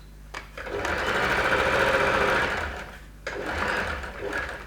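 A sewing machine runs close and steady, stitching around the ruffle frill on the arm of an off-shoulder top, with a brief pause in the middle before it whirs on again.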